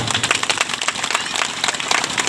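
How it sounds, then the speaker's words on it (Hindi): An audience at a Sarna religious gathering claps together, giving a dense, steady patter of many hands that fills the space evenly at moderate loudness for a couple of seconds. "चलिए एक ताली हो जाए"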